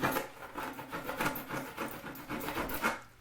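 Drying foam for a foam camper trailer insert is shaved down with a sharp multi-purpose tool blade, giving a close, steady rasping scrape in quick repeated strokes.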